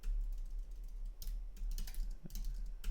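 Rapid keystrokes on a computer keyboard click away close up in uneven bursts, continuous for a few seconds with no talk.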